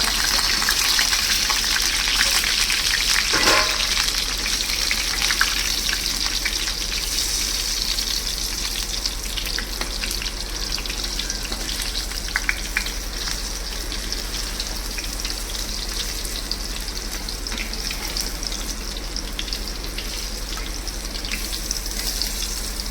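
Banana flower koftas deep-frying in hot oil give a steady, dense, close sizzle that runs unbroken throughout, with no voices over it.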